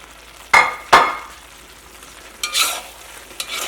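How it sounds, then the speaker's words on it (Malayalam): Fried chicken is stirred into chilli chicken sauce over a medium flame. Two sharp utensil scrapes come first, then softer stirring and sizzling bursts against a quiet background. "മീഡിയം ഫ്ലെയിമിൽ ഇട്ടിട്ട് ഇളക്കി കൊടുക്കുക"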